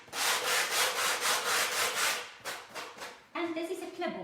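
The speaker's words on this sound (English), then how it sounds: "I'm taking 80 grit sandpaper" Rhythmic back-and-forth scraping of 80 grit sandpaper on a painted surface, close and loud, with strokes slowing and changing near the end.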